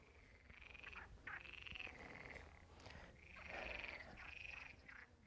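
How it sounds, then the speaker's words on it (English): Many frogs croak together in a loud, layered chorus, overlapping trills rising and falling in waves, with no voices. "I don't know if you can hear it, but it's like a lot of frogs"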